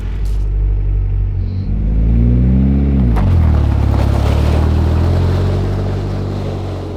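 A Ford Escort RS Cosworth engine runs loudly up close, a deep idle rumble rising into a quick rev partway through, then settling back to a heavy, steady drone.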